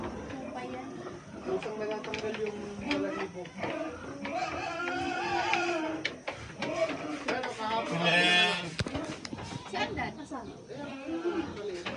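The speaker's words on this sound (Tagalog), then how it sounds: "Ito may mga tupa mga boss." Sheep bleat on a small farm, several animals calling in wavering, overlapping cries at close range while a person talks over them.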